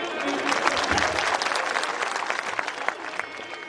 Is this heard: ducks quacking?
no